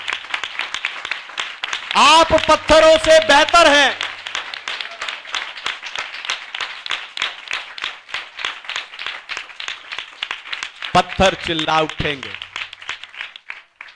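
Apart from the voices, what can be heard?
congregation clapping in praise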